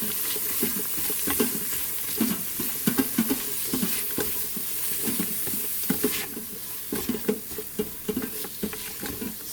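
Chopped onions sauteing in oil inside an Instant Pot, a steady close sizzle broken by repeated scraping stirs of a spoon.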